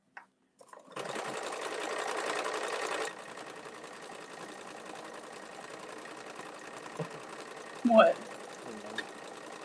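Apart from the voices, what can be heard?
sewing machine stitching a Hemingway bag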